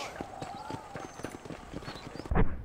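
Horse hooves clop in a quick, even rhythm in Red Dead Redemption, moderately near, ending in a louder thump, with someone talking over them.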